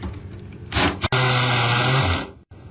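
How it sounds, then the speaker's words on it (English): A power drill bores into the keyhole of an old safe: a short whir, a sharp click, then a loud steady motor whine under load for about a second before it stops, all close up. "have a go drilling through this keyhole right here"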